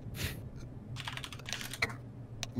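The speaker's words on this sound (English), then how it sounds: "That guy was typing" Rapid clattering keystrokes on a computer keyboard come in uneven bursts, close and fairly quiet, with no talking.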